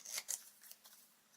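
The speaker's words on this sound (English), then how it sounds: "we're going to take our scissors. We're going to cut in about 1 inch." Scissors snip ribbon for a handmade flower-shop card, two quick, crisp close cuts followed by fainter rustling, very quiet overall.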